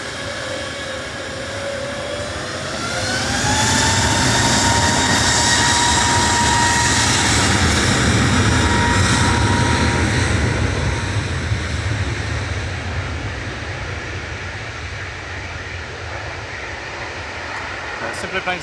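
A passenger jet at Manchester Airport roars loudly nearby, its engine noise swelling over a few seconds and then slowly fading as it heads out, with a rising whine audible early on.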